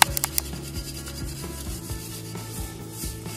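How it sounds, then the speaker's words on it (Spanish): A scouring pad scrubs a glass jar in quick, repeated rubbing strokes, close and fairly quiet, with a few sharp clicks at the start. "Comienzo a tallar con el estropajo"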